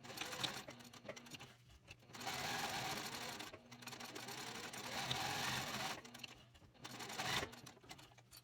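A sewing machine stitches a cork bifold wallet, running in three steady whirring bursts separated by short pauses, close and clear with no talking.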